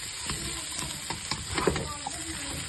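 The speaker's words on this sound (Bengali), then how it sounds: "এটাকে আমি ভালো করে মিক্স করে আরো 2 মিনিট মতন ফ্রাই করব" A roasted cumin, coriander and chili masala mixture sizzles and fries in a pan with soft, irregular stirring scrapes, while a person talks over the frying.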